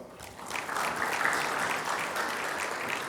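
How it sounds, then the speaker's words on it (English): An audience at a financial-advice event gives a warm round of applause for the sponsors, a dense, even patter of many hands that swells briefly and then holds steady. "Let us appreciate our sponsors with a big round of applause"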